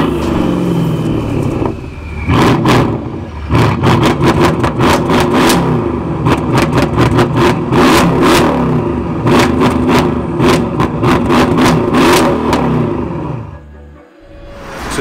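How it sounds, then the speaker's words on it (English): Mercedes S63 AMG with an aftermarket exhaust system, loud and close, revving repeatedly in sharp bursts over a deep steady idle, with crackling pops between the blips before the engine settles near the end. "So you haven't heard the exhaust system yet. It's my favorite part of the car. We're gonna get to hear it now."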